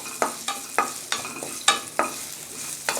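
Finely chopped ginger and tempering spices fry in hot oil in a pan for curd semiya, a steady sizzle broken by about eight sharp scrapes and clinks of stirring at a loose, regular pace, close and fairly quiet.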